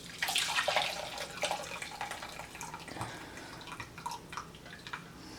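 Liquid from a roast chicken pan is poured through a strainer, a close splashing trickle that is strongest at the start and then thins into intermittent drips and small splashes.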